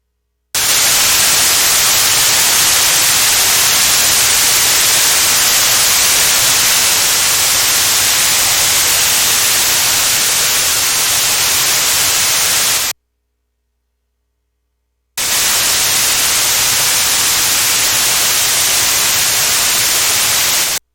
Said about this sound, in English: I'm going to pick up some white noise.